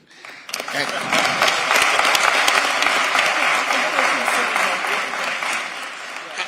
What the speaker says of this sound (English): And I think you can clap for that.